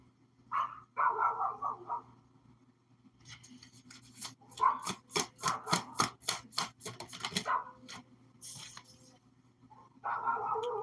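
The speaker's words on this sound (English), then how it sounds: "can you hear the fucking dogs every time?" Dogs bark in quick repeated bursts at middle distance, first a short volley, then a long rapid run of sharp barks, then another burst at the end, over a faint steady background hum.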